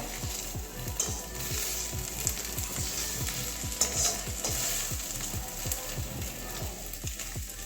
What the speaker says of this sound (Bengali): যেহেতু খুন্তি দিয়ে কাটছি একটু সাইডগুলো আটক কেটে যাচ্ছে এটাও এভাবে একটু ইয়ে করে ভেজে নেব